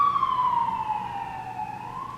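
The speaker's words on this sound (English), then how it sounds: "Sorry, ambulance." Ambulance siren wailing with a steady, slowly falling and rising tone, moderately close and heard alone with no talk over it.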